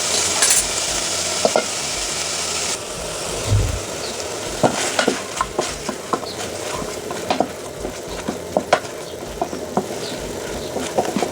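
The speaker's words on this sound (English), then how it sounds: "you're going to cook this pork this way with onions only for a few minutes until the pork is dried" Pork and onions frying in a pan over a steady sizzle, with repeated sharp scrapes and clicks of a spoon stirring against the metal, close and fairly loud, no voices.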